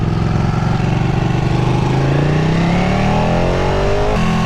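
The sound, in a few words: Ducati 959 Panigale motorcycle engine riding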